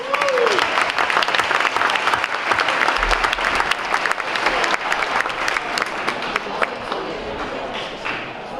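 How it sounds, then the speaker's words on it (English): A banquet hall audience at a senior banquet at St. Anselm College breaks into a big round of applause, dense steady clapping from many hands sustained at full strength for the whole stretch. "how about a huge round of applause?"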